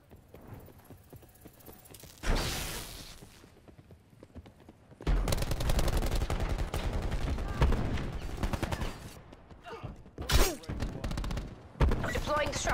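Heavy Tempest weapon fire in a video game: a loud, dense burst of rapid shots and blasts, with a short sharp burst earlier, a sustained barrage through the middle, and further cracks near the end.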